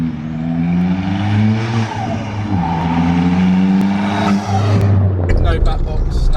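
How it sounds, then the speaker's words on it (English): A 320bhp Ford Fiesta ST with a forged engine and a completely straight-through exhaust with no back box revs loudly up and down close by, a harsh droning engine note, with people talking over it. "completely straight through exhaust, no problems. I was going to say, it's loud, isn't it?"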